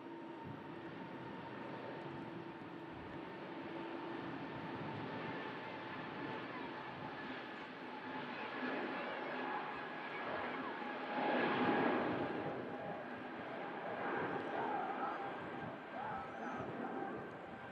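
Scandinavian airliner bound for Copenhagen at Manchester Airport during a storm, a distant, faint jet roar that swells around the middle with steady tonal whine, wind and faint voices in the background.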